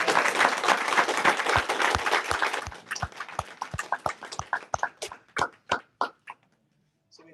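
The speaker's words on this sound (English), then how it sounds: "Everyone give a nice round of applause." An audience at a monk talk show applauds, dense clapping at first that thins out into a few loud, scattered claps before fading to silence.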